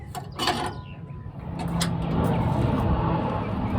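Ratcheting and mechanical clicking from a wrench torquing bolts during a hitch install on a 2016 Chevy Colorado pickup, close up, with a steady broadband mechanical whir building after the first second and no talk.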